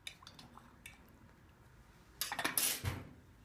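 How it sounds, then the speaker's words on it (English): A spoon briefly clinks and swirls through brewed tea inside a teapot, a short burst of soft liquid stirring and faint clatter after near silence. "I'm going to give it a quick stir."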